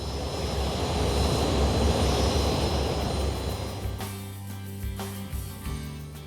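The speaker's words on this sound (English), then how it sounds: "When you hear these turbines spool up and see the heat coming out of them" Loud, steady engine roar with a high turbine whine builds and holds as a turbine-powered boat's engines spool up, then drops to a lower idling rumble with tonal hum.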